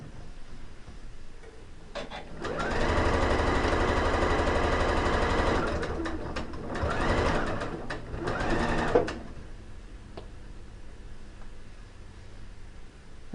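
A sewing machine stitches a quilt block seam in two bursts, a long steady run followed by a shorter one, with a quiet pause between them. Small handling clicks and soft rustling come before and after.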